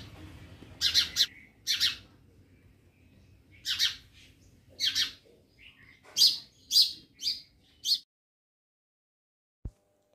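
House sparrows perched on a veranda give bursts of sharp, close chirps in uneven clusters over a low background hum, then fall silent before the clip ends.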